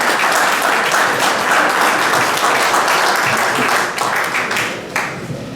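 Steady applause fills the hall at an eighth-anniversary gathering of a French federation, many hands clapping evenly and loudly before tapering off over the last second or two.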